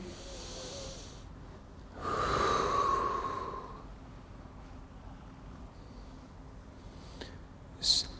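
A single long, deep inhalation during a yoga session for diabetes swells up for about two seconds and fades, soft and close, with quiet room tone and a faint click afterward.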